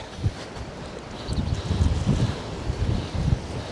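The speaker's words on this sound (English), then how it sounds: "the wind's causing absolute havoc" Strong wind gusts across Poole Harbour during a stormy fishing session, buffeting the microphone in low rumbling bursts that rise and fall over a few seconds.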